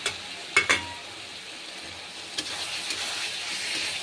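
Potato pieces being stirred and fried in spiced oil that has released from the cooked masala, a continuous sizzle broken by a few sharp spoon scrapes near the start.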